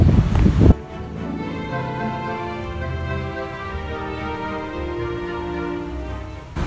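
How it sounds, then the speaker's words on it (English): Steady rain falls outdoors in New Zealand, a continuous even wash of sound heard alone at a fairly loud level after a brief louder burst at the start. "Makeup done and now it's raining."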